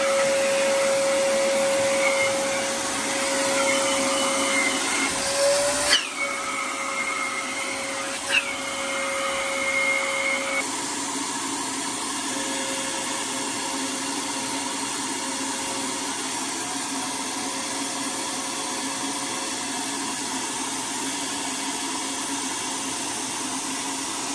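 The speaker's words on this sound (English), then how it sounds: "Help to do the vacuuming." A vacuum cleaner runs steadily throughout, a loud close droning whine that holds its pitch with a couple of brief bumps and shifts partway through, no talk over it, in a garage working on a rusty vehicle.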